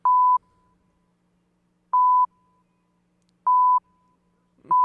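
Three loud electronic alarm beeps, each short and sharp, repeating at even intervals about every one and a half seconds, with a fourth starting at the end.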